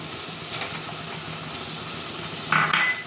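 Ground coconut being stirred into banana stem paste in a pan: a soft continuous hiss with a couple of brief spoon scrapes, the louder one near the end.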